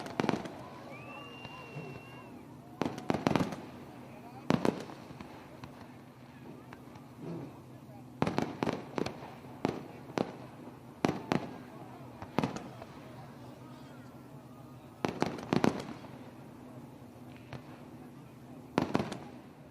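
Fireworks bursting over a race track, set off beyond the back straightaway, with sharp booming cracks arriving in irregular clusters through the clip over a steady low background rumble, while people talk.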